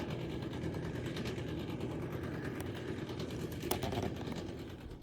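A Belarus tractor engine runs nearby outdoors, producing a steady, unbroken mechanical rumble that holds at an even level throughout.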